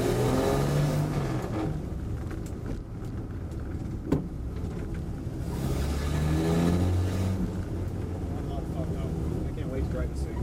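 An old Nash car runs and drives, its engine droning and rising in pitch as it accelerates, heard from inside under a continuous roar, with people talking over it.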